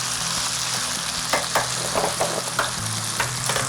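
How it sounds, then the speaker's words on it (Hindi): Chicken for an Afghani karahi fries in oil with green chillies, ginger and garlic, giving a steady, close sizzle broken by several spoon scrapes and clicks against the pan. "ये बहुत अच्छे से ग्रीन चिलीज में, अदरक लहसुन में फ्राई हो रही है हमारी चिकन"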